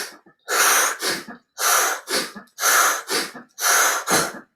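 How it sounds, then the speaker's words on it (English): A group in a meditation session blows out forcefully through their mouths as though sneezing, four loud breathy bursts at a regular pace, each a strong gust followed by a shorter tail, with brief quiet between. "exhale as if we're sneezing out"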